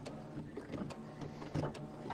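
An embroidery machine stitches a triple-stitch tack-down line, giving a steady mechanical whir with quick repeated needle taps, soft and close with no voices.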